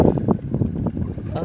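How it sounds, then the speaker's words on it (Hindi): A strong wind storm buffets the microphone outdoors in a village, producing loud, gusty rumbling throughout while someone talks over it. "यहाँ पे बहुत सारी आंधी आई हुई है, बहुत तेज़ हवा है"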